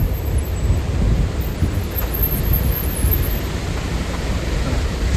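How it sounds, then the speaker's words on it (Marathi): The swollen Ganga rushes after continuous rain, a loud, dense, unbroken roar of fast water dominated by low rumble, with no pauses throughout. "ह्या कसलं फोर्स बघा पाण्याचं."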